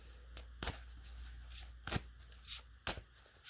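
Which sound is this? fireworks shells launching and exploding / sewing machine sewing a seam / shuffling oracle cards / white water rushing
shuffling oracle cards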